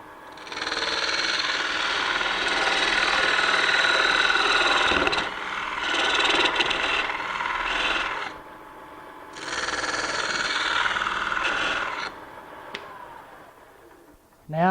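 A parting tool cuts into spinning wood on a lathe during furniture turning, making loud scraping and rasping in long stretches that pause briefly and then resume, with someone talking between passes.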